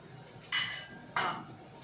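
A pie dish is carried over and set down in a home kitchen during Salisbury steak prep, giving two sharp clinks of cookware about half a second apart, with a faint clatter trailing each one.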